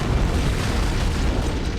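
Deep, roaring blast from an antimatter charge in the Halo video game, a loud continuous rumble of explosion filling the whole moment without letup.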